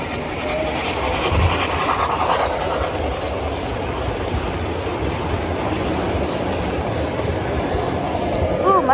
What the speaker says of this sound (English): Attention, train approaching.